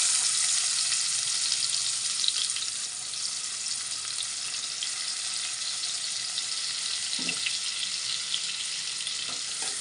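Onions fry in a pan for a brinjal and egg curry, giving a steady, close, loud sizzle throughout with a few soft stirring scrapes near the end.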